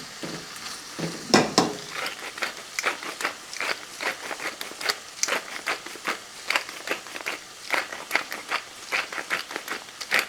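A spoon stirs stock cubes around a cooking pan in a homestead kitchen, giving a steady run of scraping, clicking strokes with faint sizzling, close and uninterrupted by talk.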